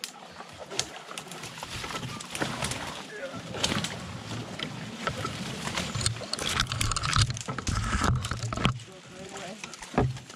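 A canoe is paddled along the narrow, bushy Dogfish River in Ontario, with uneven splashing and hull knocks under light wind while people talk.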